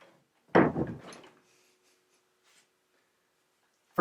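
A salvaged wooden door swings on its hinges, giving one short creaking, scraping sweep up close, followed by near silence and a sharp knock at the very end.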